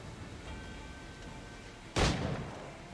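A single sharp pistol shot in the Assassin's Creed Black Flag video game, a sudden loud crack with a short booming tail after a quiet stretch of background ambience.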